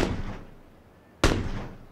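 Two sharp gunshots in PUBG, one at the start and a louder, nearer crack about a second later, each trailing off into a long echoing decay over quiet background.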